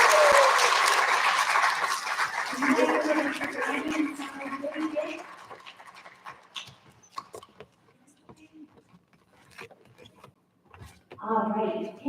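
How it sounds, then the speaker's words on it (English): Audience applause at a school recognition ceremony for special area workers, a dense burst of clapping that fades out over several seconds, followed by quieter room noise, scattered handling sounds and brief talking. "Can we have a nice big round of applause for all of our special area workers?"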